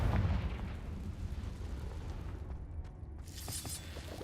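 A Confringo spell explodes in the video game Hogwarts Legacy with a heavy booming blast that rolls into a low rumble, followed by a few sharp crackles.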